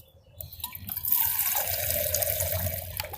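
Water poured from a Smartwater bottle into a camping cook pot for coffee, a steady splashing stream that starts after about a second and runs continuously, close and fairly loud, with no talking.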